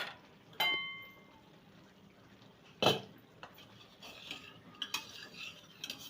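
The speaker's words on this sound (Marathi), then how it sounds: "मी डाळ अशी शिजलेली त्याला मी थोडीशी हलवून घेते" Cooked dal being stirred in a metal pot, with a sharp spoon clank against the rim near the start and another near the middle, then softer scraping and stirring sounds.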